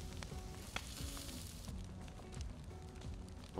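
Food cooking over a campfire in the survival video game DayZ, a faint, steady crackling sizzle with scattered small pops throughout and no speech.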